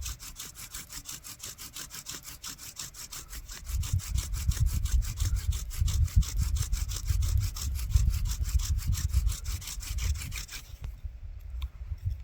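A wooden hand drill spindle spins in a hole in a wood board, giving a steady, close rasping friction rub with a rapid back-and-forth rhythm that grows louder and heavier partway through, then stops abruptly near the end.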